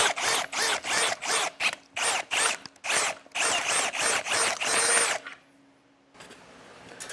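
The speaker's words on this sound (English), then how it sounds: "now that I have both of my holes drilled" A screw gun bores holes while mounting a 2015 Keystone trailer tail light bar, working in a rapid series of short, even taps that give way to one sustained run before stopping, close and loud.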